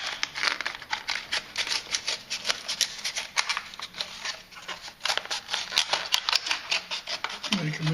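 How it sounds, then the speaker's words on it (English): Scissors cutting open stiff packaging, with a run of close, crisp snips mixed with plastic crinkling and rustling, fairly loud and continuous. "Let's cut this out of here. They make this hard to get to"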